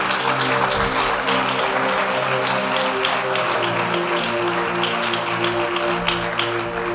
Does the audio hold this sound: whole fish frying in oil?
no